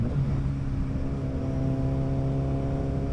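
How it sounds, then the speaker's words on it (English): Motorcycle engine humming steadily under way, with a smooth rising and falling tone as an auto-blip downshift happens, close and continuous throughout. "Let's do a quick auto blip."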